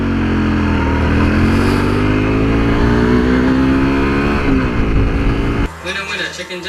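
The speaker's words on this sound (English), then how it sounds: "This BMW next to me wants to race." A motorbike revving hard and accelerating beside a BMW car on the road, a loud close engine note rising in pitch through the gears before dropping off abruptly into wind noise.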